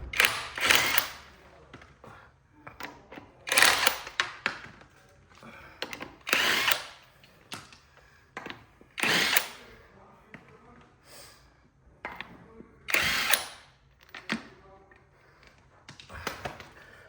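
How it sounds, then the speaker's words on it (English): An impact gun removes the wheel nuts on a Suzuki Jimny JB74 Gen 4 in a series of loud, close rattling bursts of a second or two each, separated by pauses with quiet handling noise. "I'm just using an impact gun because it's quicker"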